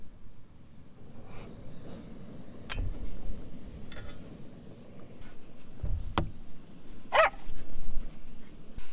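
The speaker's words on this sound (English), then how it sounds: "Dog's sparking off a little bit there" A dog gives a few scattered barks at a distance against a quiet outdoor background, the barks spaced irregularly rather than in a steady run.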